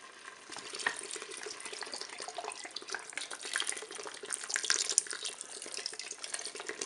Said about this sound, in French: Je vais verser la bière.